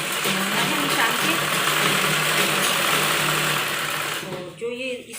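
A sewing machine stitching a blouse seam, a loud continuous mechanical whir with a steady rapid rhythm that slows and stops near the end, with someone speaking over it.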